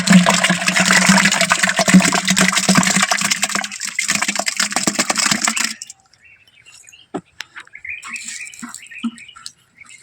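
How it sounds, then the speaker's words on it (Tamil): Fermented oil cake solution for jasmine cultivation is poured into another liquid solution with a loud, rushing gush for about six seconds. It stops abruptly, leaving faint drips and small splashes. "அதனுடன் நன்கு புளிக்க வைக்கப்பட்ட அந்த புண்ணாக்கு கரைசல் ரெண்டையும் மிக்ஸ் பண்ணிக்கிறோம்"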